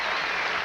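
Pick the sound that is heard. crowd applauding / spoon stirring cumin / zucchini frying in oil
crowd applauding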